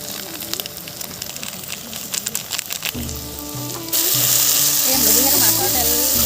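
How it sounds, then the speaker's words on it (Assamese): Onion, tomato, ginger, garlic and garam masala go into leftover fish-frying oil for an Assamese dish, and a loud, hissing sizzle suddenly swells and holds steady while a voice talks over it. "যিহেতু মাছৰ তেল থকাখিনিতে ফ্ৰাই কৰাখিনিতে দি দিলোঁ"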